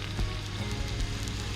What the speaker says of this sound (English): Cook the fillets for 3 to 4 minutes each side until the fish is just cooked.